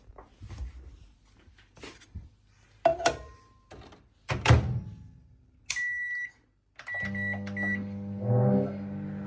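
A microwave oven in use: door and button clunks and beeps, then a steady low hum of the oven running, close by.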